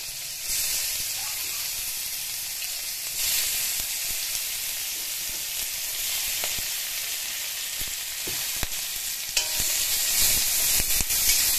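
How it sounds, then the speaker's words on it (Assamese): Chopped onions fry in oil left over from frying fish, making a loud, continuous sizzle with occasional sharp stirring clicks and no talking. "তাৰপিছত এই তেলতে পিয়াজ কটা পিয়াজ দি দিলো"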